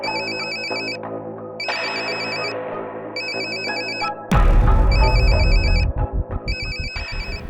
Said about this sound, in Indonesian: Bu Aisyah, ngapain dia telepon aku?